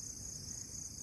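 Crickets chirp in a steady, continuous high-pitched drone at a quiet night campsite in Catanduanes, Philippines, with a low rumble of background noise beneath and no voices.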